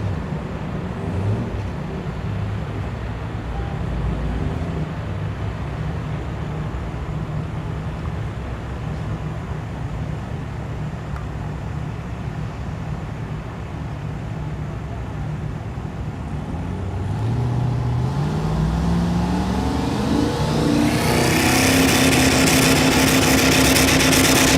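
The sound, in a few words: drag race cars, a Fairmont and a Chevy, launching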